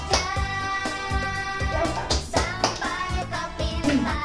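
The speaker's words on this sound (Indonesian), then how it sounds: "Lompat tepuk tangan." Hands clap repeatedly in a children's jump-and-clap game, a steady run of claps mixed into a bright, continuous music track.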